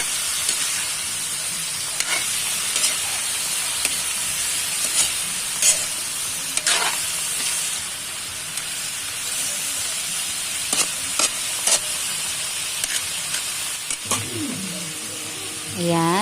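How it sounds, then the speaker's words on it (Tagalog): Squash and dried fish sauté in a pan for a vegetable dish, keeping up a continuous sizzle with scattered utensil clicks and stirring scrapes, plus a brief voice-like sound near the end. "Gisahin lang ulit sama ng kalabasa, daing at ng ibang ingredients or sangkap"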